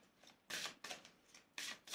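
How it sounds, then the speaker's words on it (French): Tarot cards are shuffled by hand in three quick, crisp riffling bursts separated by short pauses, close but soft, with no talking. "Moi, pendant ce temps, je vais mélanger les cartes."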